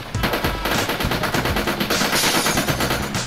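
Sustained automatic gunfire in the Sub Rosa video game, a rapid, loud, close stream of shots that barely pauses, dense and unrelenting with no voices over it.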